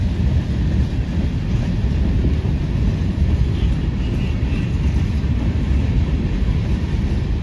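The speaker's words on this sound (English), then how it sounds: "And then a Union Pacific high-cube boxcar." Freight train of high-cube boxcars, BNSF and Union Pacific among them, rolling steadily past close by with a continuous heavy low rumble and faint wheel clatter, no voices.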